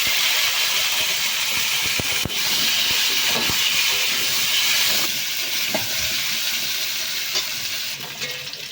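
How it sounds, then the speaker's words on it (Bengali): Fish roe frying in oil, a loud, dense hissing sizzle with scattered pops and crackles throughout, steady and close, easing slightly near the end. "ভেজে নিলাম"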